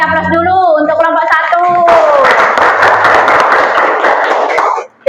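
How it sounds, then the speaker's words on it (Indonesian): Applause and some cheering break out in a classroom for a student group that has just finished presenting, a dense steady clatter of clapping that follows a voice and carries on loud for a few seconds before cutting off. "Kita beri aplaus dulu untuk kelompok"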